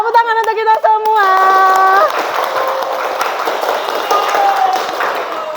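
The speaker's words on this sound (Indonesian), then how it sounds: "Tepuk tangan untuk kita semua." Applause from a group closing a teaching session: a long stretch of dense clapping runs under sustained tones and a voice, with a held note and talk riding on top.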